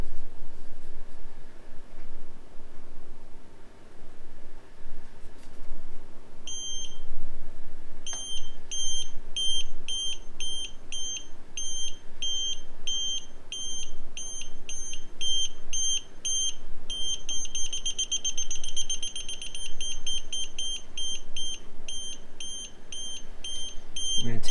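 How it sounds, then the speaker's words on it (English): Toptes gas leak detector in a kitchen with the gas turned on, sounding a rapid series of loud, high electronic beeps in repeated bursts that speed into near-continuous beeping, close by over a steady background hum. "I want to turn the gas on and see if this thing detects the gas."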